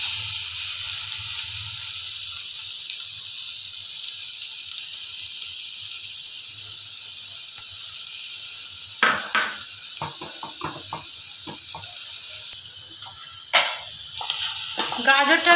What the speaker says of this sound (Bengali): গাজরটাকে খুব ভালোভাবে এই ঘিয়ের সাথে ভেজে নিতে হবে।